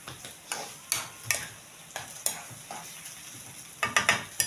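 Liver and onion frying in a pan, with a low sizzle under irregular spoon scrapes and taps that bunch into quick clusters toward the end, fairly quiet and close.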